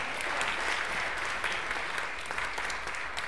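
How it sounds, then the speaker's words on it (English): Steady applause from a church congregation during a Sunday service, a dense wash of clapping throughout at moderate level with no talking. "Please give them a round of applause."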